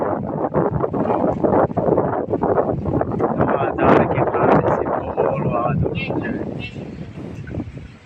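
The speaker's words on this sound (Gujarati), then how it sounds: "એકદમ ફૂલ પવન આવે છે" Strong storm wind before rain roars and buffets the microphone in continuous gusts, with a voice faintly heard beneath the rushing noise.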